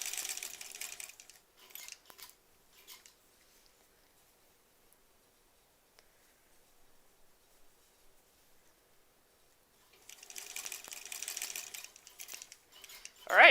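Quick high-pitched buzzing bursts from a sewing machine stitching a granny squares quilt come at the start and again near the end, with quiet gaps, small handling rustles and a speaking voice in between.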